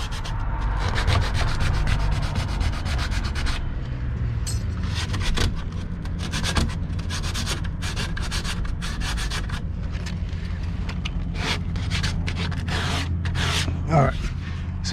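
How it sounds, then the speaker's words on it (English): Hand sanding of filled holes in a surface being patched, a steady rubbing scrape running throughout with strokes varying in intensity, close and moderately loud, with some low background hum. "sand them back."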